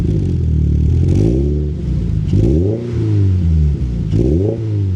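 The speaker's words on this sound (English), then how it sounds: "With my foot on the brake and the clutch, we can start this up now" A 2026 Toyota GR86 Yuzu Edition engine cranking and firing up, loud and close, with deep rising revs that surge and settle in repeated waves over a steady idle rumble, no talking.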